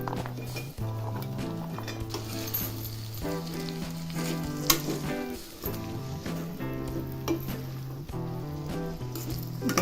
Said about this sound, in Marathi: आता यामध्ये मी बटाटा, वांग घालणार आहे